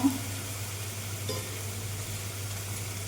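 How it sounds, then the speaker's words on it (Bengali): A splash of water hits spices frying in a pan while cooking a vegetarian potato and cauliflower curry, giving a brief burst at the start that settles into a steady low sizzle with a low hum beneath. "এবার আমি সামান্য জল দিয়ে দিচ্ছি আর সামান্য"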